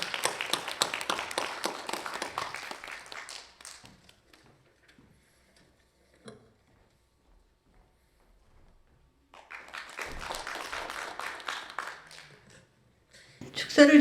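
Audience clapping at a Korean commemorative ceremony marking the 80th anniversary of the national founding program, heard as two separate bursts of many hands with a quiet gap between them, moderately loud and fairly close.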